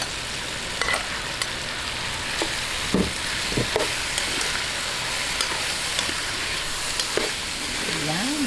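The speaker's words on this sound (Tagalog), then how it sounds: "Atin lang pong gisa-gisahin hanggang mag-light brown." Pork sautéing with softened onions in a pan for dinuguan makes a continuous close sizzle, broken by scattered clicks and scrapes of stirring.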